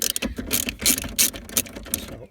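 A ratchet loosens the 10mm nut on the negative battery terminal of a BMW 1 Series, giving close, crisp rapid clicking in several quick bursts with short pauses between strokes.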